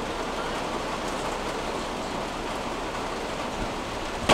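Rain falls steadily on a campsite in Sweden, an even hissing patter at constant loudness with no voices.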